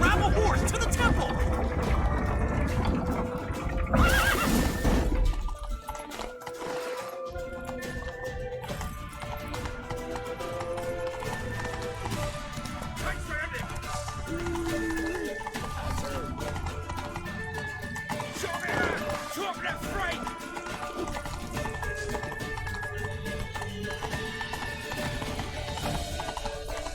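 Hooves clatter in a fast gallop with horse whinnies, set inside a busy Witcher 3 game soundscape with music and effects throughout.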